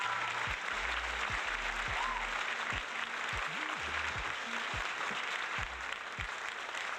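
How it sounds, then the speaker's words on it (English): A canned applause sound effect plays during a virtual pub quiz, continuous crowd clapping with faint voices talking over it at times. "let's have an applause sound effect for them"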